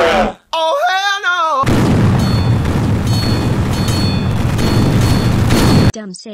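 A heavy nuke explosion in a video game: a deep, loud, sustained roaring boom lasting several seconds, preceded by a short burst of a voice and cut off abruptly, with speech resuming afterward.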